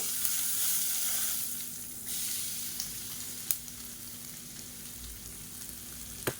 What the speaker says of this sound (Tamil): நம்ம அரைச்சி வச்சுருக்கிறத தேங்காய் பேஸ்ட்டை சேர்த்துக்கலாம்